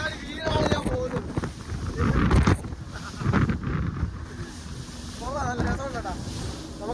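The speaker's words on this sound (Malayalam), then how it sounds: "നല്ല കാറ്റ് ശക്തിയായിട്ട് വീശുന്നുണ്ട്" Strong wind buffets the microphone in gusty roars aboard a fishing boat at night, with people talking and laughing over it.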